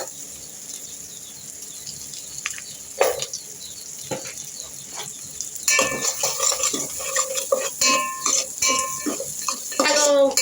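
Onion, ginger and garlic fry in a pan as a utensil stirs them, giving scraping clatter and soft sizzle that grow busier and louder after a quieter start, with a voice speaking in places.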